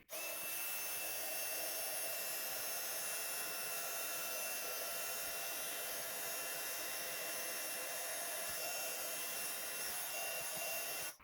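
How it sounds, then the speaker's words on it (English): A heat tool blows continuously to melt embossing powder on a card panel, a loud, steady, hair-dryer-like whir that runs unbroken from start to finish. "now it's covered in embossing powder, and now I'm going to heat it up"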